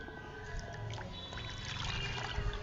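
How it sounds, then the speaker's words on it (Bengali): Leafy greens being washed by hand in a bowl of water, giving steady splashing, pouring and trickling close by, with no voices. "আর এই তো আমি শাকটা খুব ভালোভাবে ধুয়ে নিচ্ছি"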